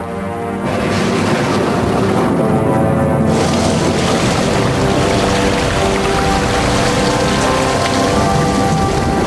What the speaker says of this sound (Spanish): Cuando se saturó la atmósfera, comenzó a llover.